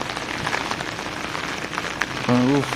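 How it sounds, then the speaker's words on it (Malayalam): Steady rain patters and hisses throughout, fairly loud and close, with a brief tonal sound near the end. "മഴയായിട്ട് ഒരു സഹിക്കാൻ വയ്യ വയസ് മഴ അന്യായ സീനാണ്"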